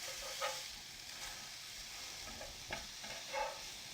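Minced steak burgers cook gently in a pan, giving a soft, steady sizzle with a few brief louder crackles and pops spaced across the clip.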